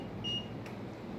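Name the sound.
multimeter buzzer beeping in continuity mode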